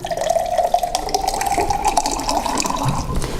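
Clean water running steadily out of a nanofilter purifier, a continuous, fairly loud splashing stream like a filling tap, with no voices.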